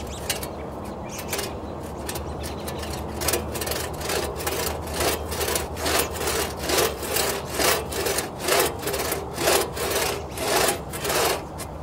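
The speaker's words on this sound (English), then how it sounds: "this is the one-man saw that I showed you earlier, and we're just going to do a little sawing here" Steady hand sawing through wood with a one-man saw, a rasping back-and-forth stroke repeating in an even rhythm, close and fairly loud, with no talking.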